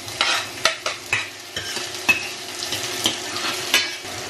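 Chicken backbones for adobo sizzle in a hot pan while a utensil stirs and scrapes, giving sharp clacks about every half second over a constant bright frying hiss, close up and with no talking.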